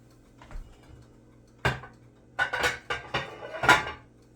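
A 13 by 9 baking dish is pulled out from among pots and pans in a home kitchen, giving several sharp clanks and rattles, with a quiet pause before the loudest knocks near the end.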